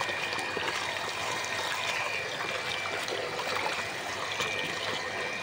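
Water runs steadily as taro leaves are rinsed, a soft continuous trickle and splash without pauses, moderately quiet and close, with no voices.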